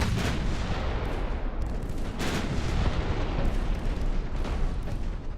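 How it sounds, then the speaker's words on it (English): Naval broadside gunfire from battleships in the video game Ultimate Admiral Dreadnought, a dense continuous rumble of overlapping booming cannon shots, loud and close, with no talking. "Open up and give them the full broadside, baby. Dude, we are punishing that battleship."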